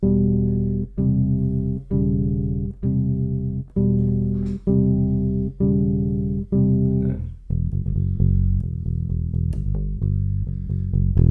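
A low bass guitar plays a slow series of sustained minor chords, including a flat-six C, each held about a second, and then moves into a busier run of notes.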